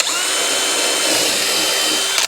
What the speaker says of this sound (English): You just simply put your drill in and away you go.